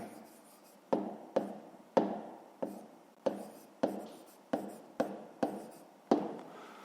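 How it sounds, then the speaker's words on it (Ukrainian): Handwriting of an answer on paper, with about ten brief pen strokes or taps spaced roughly half a second apart, close and fairly quiet, each followed by a soft scratching trail. "Ну що ж, записуємо відповідь."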